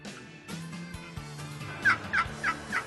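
Wild Merriam turkey gobbling in the Wyoming hunting country, four loud close gobbles in a quick series over low steady background noise.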